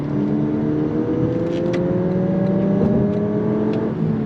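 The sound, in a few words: 2022 Lexus UX 250h accelerating on throttle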